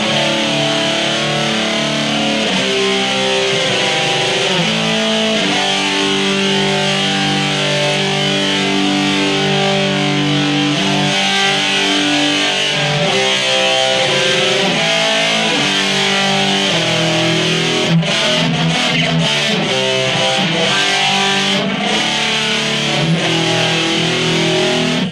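A heavily distorted electric guitar plays through a BOSS eBAND JS-10, loud and continuous with sustained chords and riffing, no voices.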